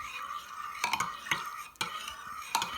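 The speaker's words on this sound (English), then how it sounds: "And then we're going to give that a stir around." A spoon stirs couscous and stock in a bowl, scraping and clinking against the sides in a quick, uneven rhythm, close up and clear.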